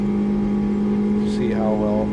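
Car engines in the GT Sport racing game, a steady droning hum at a constant pitch with a rising whine of revving near the end, under a voice speaking throughout.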